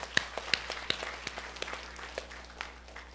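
Sparse, quiet clapping from a church congregation during a Korean sermon, a few scattered claps spread irregularly over a few seconds rather than a full ovation.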